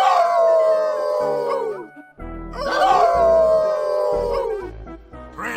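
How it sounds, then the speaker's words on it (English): Wolves and dogs howl together in the video game Inherit the Earth, two long loud choruses of wavering, falling howls with a brief gap between them and low barks underneath. "Hey, everyone, how about a good group howl?"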